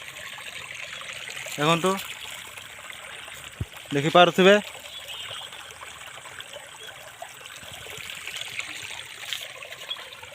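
Water stream flowing at Takua waterfall, a constant soft trickling wash in the background beneath two short bursts of a person talking.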